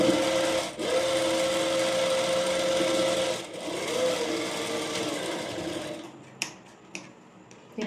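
A sewing machine stitches a blouse dart in several short runs of whirring, broken by brief pauses. Scattered faint clicks and taps follow in a quieter stretch at the end.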